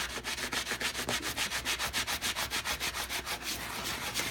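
A lemon and kosher salt are scrubbed over a cutting board in steady back-and-forth gritty rubbing strokes, about five per second, close and even, with no talking.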